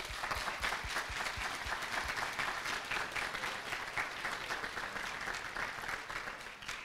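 Audience applause at a community celebration honoring a language artist, a full, steady wash of many hands clapping for several seconds, fairly loud and even throughout, with no talk over it.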